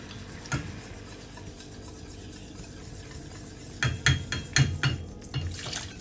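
Spoon or whisk scraping and stirring in a pot as very hot milk is added little by little to a flour and butter roux for a lasagna sauce, soft at first, then a few louder knocks and scrapes.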